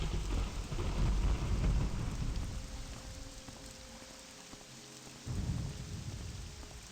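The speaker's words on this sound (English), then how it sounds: "We got thunder and lightning and rain." Thunder and rain in Morrowind: deep rumbling thunder rolls in, fades, then swells again, over a constant hiss of steady rainfall, loud and enveloping.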